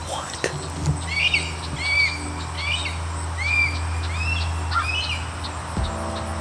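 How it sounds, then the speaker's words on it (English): A hawk calls repeatedly from a tree after flying over a truck campsite, a series of short, sharp squealing cries spaced about a second apart over a steady low hum. "massive hawk just like flew over"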